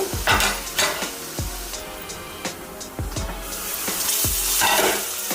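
Onions frying for Andhra-style fish curry give a steady sizzling hiss while a spoon scrapes and taps against the pan in a loose, repeated stirring rhythm, close and fairly loud.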